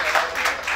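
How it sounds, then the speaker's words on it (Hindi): Audience at a Karachi awards ceremony for Pakistani artists breaks into applause for Naeem, a brief burst of dense, steady clapping from a crowd. "पहले तो भरपूर ताली होनी चाहिए नईम भाई की"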